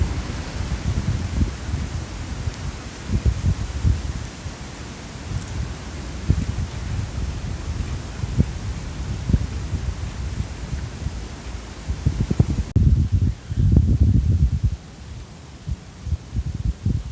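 Wind gusts buffet the microphone outdoors on a cold day with snow flurries, with steady low rumbling and rustling that swells and eases, briefly louder near the end.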